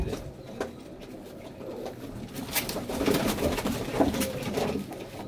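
Pigeons cooing continuously in a loft, soft rolling coos layered with fluttering and shuffling noises, close by and steady with no talking.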